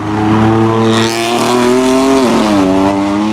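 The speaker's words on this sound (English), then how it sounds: "This is essentially an equal length exhaust system. The S55 engine has 2 turbos." A BMW S55 twin-turbo engine drones steadily through an equal-length exhaust, its deep tone sliding down in pitch as the revs drop, with no talking.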